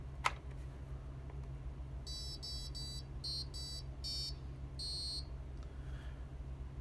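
A piezo buzzer on an Arduino-style board powered over USB plays a short startup tune of quick, bright, evenly paced beeps in several bursts, clear and close over a steady low electrical hum, with no talking.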